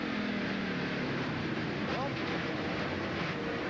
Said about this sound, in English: Let's listen to the onboard, see if the engine's running.